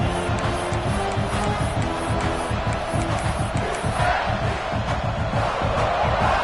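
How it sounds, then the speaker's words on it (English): A football stadium crowd chants and roars in unison to back the defense in the red zone, a loud rhythmic pulsing crowd din with shouted cheers, sustained for the whole stretch. "The crowd getting behind this defense as they try to get a stop in the red zone."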